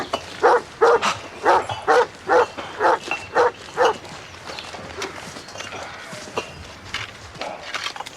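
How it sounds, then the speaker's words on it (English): A hungry-looking dog in a Doctor Who scene barks in a run of about nine loud, evenly spaced woofs, then falls to softer whimpering and shuffling against a low room background. "The dog doesn't look as though it's been fed today."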